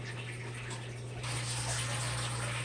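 Steady gushing water as an aquarium pump drains the tank during a weekly water change, a continuous close flow that grows louder and brighter about halfway through, with a low hum beneath.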